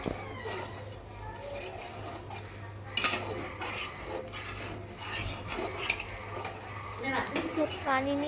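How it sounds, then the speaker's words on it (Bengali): A spoon scrapes and rasps around a pot of beef bhuna, steady close stirring with a few sharper clinks, while a voice talks over it. "তো পানি নিয়ে এবার আমরা এটাকে নাড়া দিয়ে দিব"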